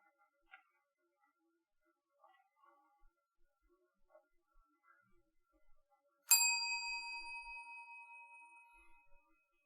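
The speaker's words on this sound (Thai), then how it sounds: "กระดิ่งเรียกแขก" A service bell, the kind used to call for attention at a desk, is struck once and gives a bright, clear ding that rings on and slowly fades over a few seconds after faint scattered clicks in a quiet room.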